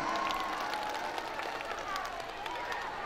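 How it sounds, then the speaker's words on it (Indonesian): Applause and cheering from a concert crowd for children at a humanitarian concert in Aceh Singkil, a steady dense wash of clapping with scattered voices throughout. "Luar biasa, tepuk tangannya."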